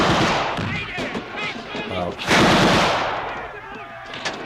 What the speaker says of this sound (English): This guy's going full Rambo with the 2 machine guns.